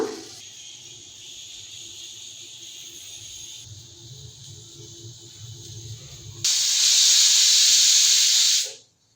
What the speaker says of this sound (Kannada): ಜಸ್ಟ್ ಒನ್ ವಿಷಲ್ ನಾನು ಕುಕ್ಕರ್ನಲ್ಲಿ ಇದು ಮಾಡ್ತೀನಿ ವಿಶಲ್ ಹಾಕೋಣ